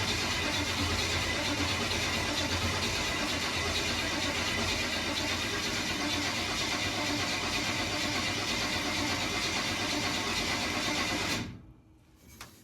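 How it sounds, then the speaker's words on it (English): A rat rod's engine spins over on the starter with the ignition off to prime oil, a continuous loud mechanical whir holding steady for about eleven seconds before cutting off abruptly into near silence. "Since we haven't started this thing, we're gonna cycle it just a little bit, try and get a little bit of oil pressure built up."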